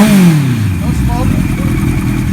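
A 1976 Kawasaki KZ900A motorcycle engine idles close and loud, with a brief falling rev at the start and then a rough, steady rumble.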